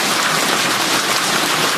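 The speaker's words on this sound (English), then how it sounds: "Oh, he's getting hit by hail." Hail falls outdoors, striking a person and a camera, a dense, loud, steady hiss of countless small impacts throughout with no voices.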